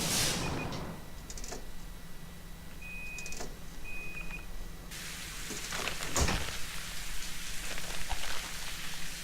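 Video game rain from the train-station game Overcrowd: a steady broadband patter that thickens and grows louder in the second half, with faint tonal chimes early on and no voices.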